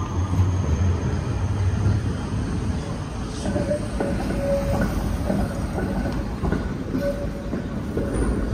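Train rolling through Brno train station in the Czech Republic, a steady, continuous rumble of rail noise with faint wheel squeals and clatter throughout.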